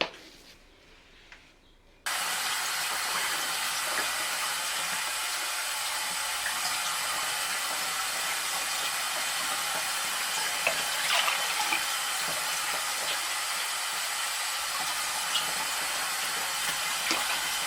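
Water runs steadily from a tap to be measured for bread maker dough, a continuous close hiss that starts abruptly after a brief quiet moment and keeps flowing at an even level.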